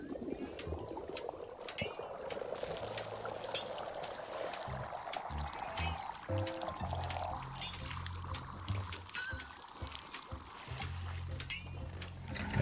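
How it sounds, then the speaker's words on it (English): Liquid pouring in the WanderStop video game while making coffee, a steady trickling stream over soft game music and ambient tones, fairly close and continuous. "Let's pour this out."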